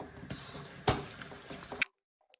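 Flour dough being mixed in a pan, soft scraping and stirring with a couple of sharper utensil knocks against the pan, close and quiet, ending abruptly in near silence with a faint tap.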